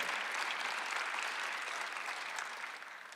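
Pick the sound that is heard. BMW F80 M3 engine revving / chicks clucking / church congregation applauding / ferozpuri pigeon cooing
church congregation applauding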